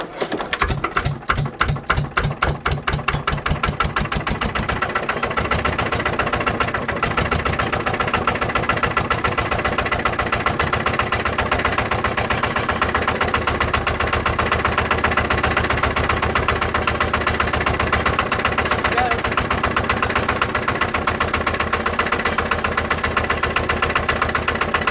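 A Lister LD1 single-cylinder diesel engine, with newly replaced push rods and diesel tank, on its first start-up: a few slow, separate chugs quickly build into a loud, steady, rapid idle that carries on alone, close by.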